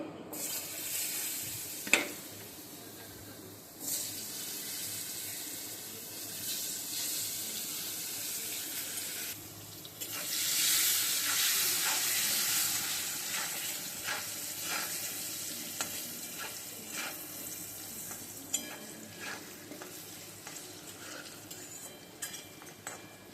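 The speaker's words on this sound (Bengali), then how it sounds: "আগে আমি আলুটা ভেজে নেব তারপর আমি মাছের মাথাটা ভাজবো" Potato pieces fry in hot oil in a wok-style kadai seasoned with turmeric and salt, a steady broadband sizzle running throughout with a brief stirring clatter near the start and a louder hiss midway, no talking.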